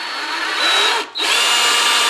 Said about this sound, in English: To make it properly round, I put it in the drill.